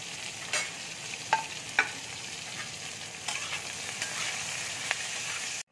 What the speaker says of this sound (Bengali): নুন হলুদ দিয়ে ভেজে আমি নামিয়ে নেব